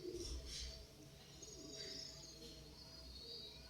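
Soft pigeon coos and a few chirps from a rooftop pigeon loft, faint and distant against low background noise, with light bird calls scattered through.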